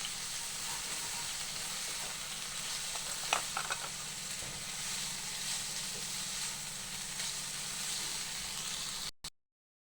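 Dhenki greens and potato fry in a pan with a dry red chili, giving a steady hiss of sizzling and a few soft scrapes before the sound cuts off abruptly near the end.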